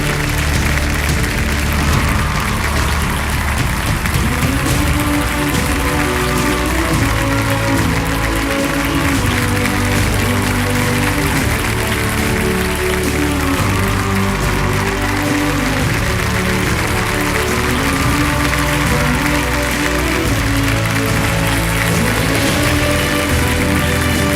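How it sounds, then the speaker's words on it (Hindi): A studio audience on the Kaun Banega Crorepati set gives loud, sustained applause to welcome Akshay Kumar, continuous clapping mixed with background music throughout. "जोरदार तालियों के साथ उनका स्वागत किया जाए"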